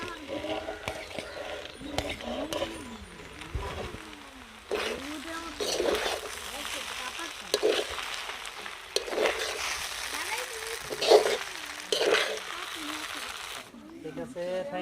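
Noodles fry with vegetables and egg in a pan, sizzling under a spatula that stirs and scrapes in intermittent bursts, while voices talk and sing over the cooking throughout.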